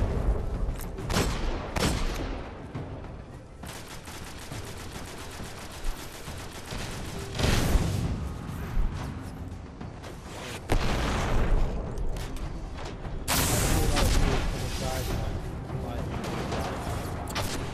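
Gunfire in the Destiny video game, with dense bursts of shots and heavy booming blasts repeating loudly over the whole stretch while voices talk over the action.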